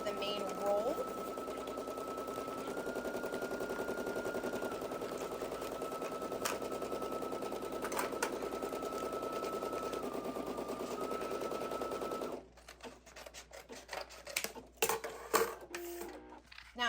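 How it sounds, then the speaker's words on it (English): A home embroidery machine runs its placement stitch for an HTV appliqué, a steady mechanical whir with a rapid needle patter that holds evenly for most of the run, then stops and gives way to faint handling noises and clicks. "you're going to see it's going to do the placement stitch first"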